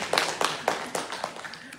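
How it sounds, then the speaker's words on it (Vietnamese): Listeners at a Buddhist dharma talk in a Zen monastery give a short round of applause, about six crisp, fairly evenly spaced claps that sound close and clear, with no talking. "Cho một tràng vỗ tay"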